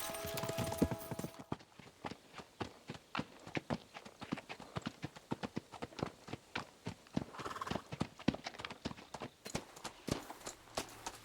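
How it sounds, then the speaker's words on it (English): Horses gallop in a medieval video game, a quick steady clip-clop of hooves struck close by over several seconds, with a neigh near the start and no one speaking. "We should spur the horses on!"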